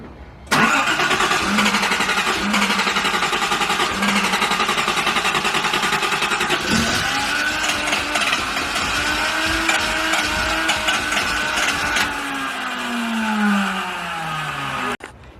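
A Datsun 280ZX, not run for several years, cranks and fires up, its engine catching and running loud and close for about fourteen seconds with a surge in revs near the middle before cutting off.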